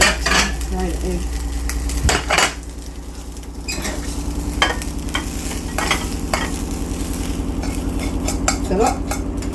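Egg fried rice stirred and scraped in a sizzling pan, continuous frying hiss under repeated clanks and scrapes of a utensil against the metal, loud and close.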